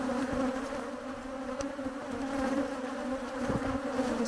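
Swarm of bees buzzing around a jar of honey, a dense, continuous droning hum that stays close and loud for the whole stretch with no voices.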